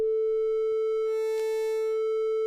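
Steady, pure synth tone from a BLEASS Megalit synthesizer playing a sine waveform, held at constant pitch and loudness with a faint brief click partway through.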